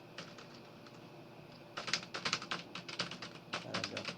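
Code being typed on a computer keyboard, light scattered keystrokes at first that turn into a quick, dense run of clicks, close up and fairly quiet, with no talking.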